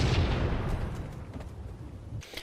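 A grenade explosion in the Halo 2 multiplayer map Lockout: one loud, broad blast that rolls into a long rumbling decay, with a short sharp pop near the end.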